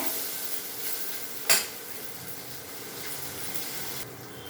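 Onions fry in hot oil in a thin pan for a sprouted green gram stir-fry, giving a steady loud sizzling hiss throughout with one sharp clatter of a utensil partway through.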